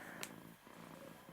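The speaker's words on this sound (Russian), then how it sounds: "Мурлычет как." Purring from a pet cat in a home, a steady low rumbling rhythm heard up close and fairly quiet, with a brief sharp noise near the start.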